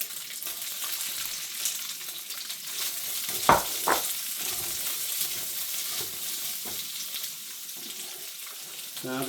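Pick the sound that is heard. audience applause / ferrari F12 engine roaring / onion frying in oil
onion frying in oil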